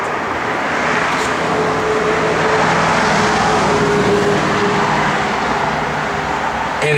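A 1969 Dodge Dart Swinger cruises along the road, heard from inside as a steady, loud broadband rumble of engine and road noise with no talking.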